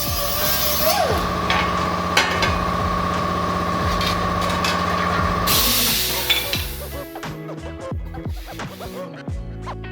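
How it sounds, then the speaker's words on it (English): A steady abrasive grinding drone from sanding rusty car body metal runs for several seconds, then cuts out, leaving scattered clanks and scraping noises. "Just going to give that a quick sand."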